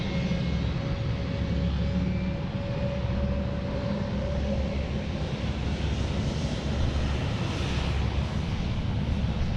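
Boeing 717 airliner at Sydney Airport, a steady loud jet engine roar with a broad rumble and a slowly rising whine, heard from nearby without talking.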